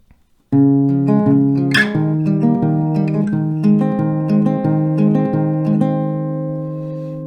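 A plucked acoustic guitar plays a steady melody of single notes over ringing open strings, close and clear, with no voices.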